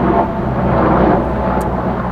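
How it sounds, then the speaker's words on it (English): Low, steady propeller-engine drone of a water bomber aircraft flying over a mountain area near a forest fire during a summer heat wave, a continuous rumble heard alone with no talk. "That's the sound of a water bomber, because there's a forest fire nearby"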